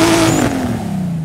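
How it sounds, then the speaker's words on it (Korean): Engine of the Hot Wheels 2JETZ car in the Forza racing game, a loud continuous revving drone with a steadily falling pitch, heard alone. "엔진 소리 들어볼게요."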